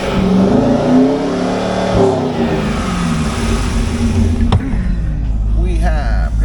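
A 2004 Chevrolet Corvette Z06 with the 5.7L LS6 V8, a rotted-body salvage-yard car with good oil pressure, idles and revs up close in a steady, throaty rumble that swells and falls, with a voice talking over it.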